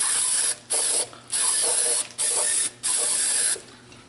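A compressed air hose blows debris off a cast iron piece under repair, firing several loud, hissing blasts of roughly half a second to a second each, separated by brief pauses.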